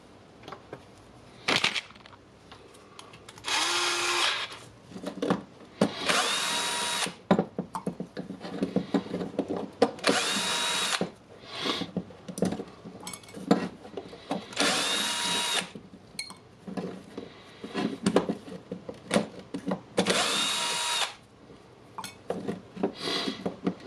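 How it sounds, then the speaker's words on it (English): Metal parts and a screw being worked loose on a DeWalt brushless drill's transmission housing, heard as intermittent clinks, rattles and short scraping bursts, close and moderately loud, with no speech. "And I want to unscrew this housing."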